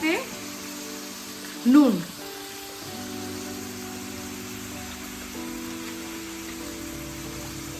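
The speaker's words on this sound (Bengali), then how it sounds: "এবার চালটাকে আমি একটু ভেজে নিচ্ছি।" Washed binni rice fries in a hot pan with a soft, continuous sizzle throughout, briefly disturbed by a louder scrape near the start, while someone speaks a word over it.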